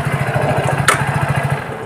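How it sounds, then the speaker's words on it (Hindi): A Hero HF Deluxe BS6 motorcycle, a 2022 model, runs in gear with its small single-cylinder engine, giving a steady, close, pulsing engine drone throughout and a brief higher-pitched burst near the middle. "जैसे कि यहां पर गियर लग गई है बाइक चल रही है आप देख सकते हैं"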